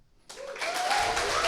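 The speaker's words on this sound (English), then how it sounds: "I would really appreciate a round of applause for the other 3 cryptonauts" An audience bursts into applause at a data science bootcamp demo day in Berlin; the clapping starts abruptly after a brief silence and swells into a steady, dense roar with some whistling or voices.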